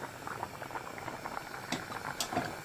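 Rice boils in a pot on a home stove, giving a soft, continuous bubbling with scattered small pops and a couple of sharper clicks, faint and close.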